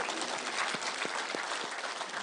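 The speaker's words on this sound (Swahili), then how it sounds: "tumpigie makofi" A crowd claps for a woman teacher at a public gathering, a faint, dense patter of many hands sustained throughout the short stretch.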